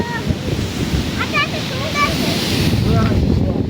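Sea waves at Kuakata beach, a steady washing surf roar mixed with wind buffeting the microphone, with people talking nearby over the shoreline noise.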